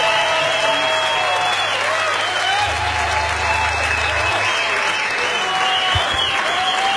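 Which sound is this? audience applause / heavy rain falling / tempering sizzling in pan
audience applause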